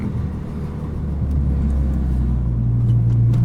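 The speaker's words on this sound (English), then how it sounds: "this car pops and bangs like no tomorrow" Renault Megane RS RB8 project car driven hard on a canyon road, a loud steady engine rumble and whir building slightly, heard from inside the cabin with no distinct pops or bangs standing out.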